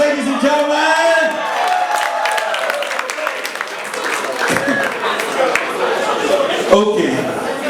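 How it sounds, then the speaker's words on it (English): A party crowd at an indoor game event claps and cheers, with whoops and laughter rising over continuous applause while voices shout across the room. "Round of applause, ladies and gentlemen!"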